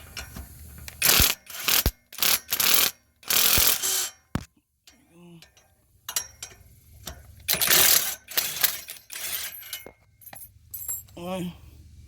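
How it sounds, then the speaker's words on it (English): An impact gun removing 14 mm exhaust bolts on a Toyota Corolla Hatchback, heard as several loud rattling bursts of a few seconds each, with short pauses and someone talking in between. "so you're going to get your impact gun"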